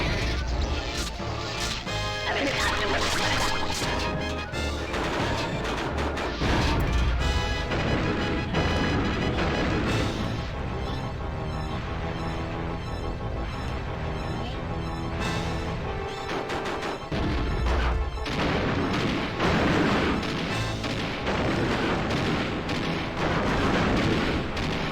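Fireball attacks in Donkey Kong 64 burst out in a dense, continuous barrage of booming blasts and crashes, loud throughout, with the sound briefly thinning around the middle before the pounding resumes.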